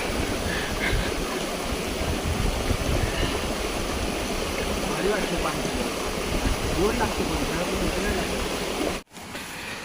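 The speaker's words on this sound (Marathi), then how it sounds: "अभिषेक पहिल्यांदाच पाणी पितोय असं वाहतं बाहेरचं" Steady rushing of a flowing stream, broadband and continuous throughout, close by, with a brief dropout near the end.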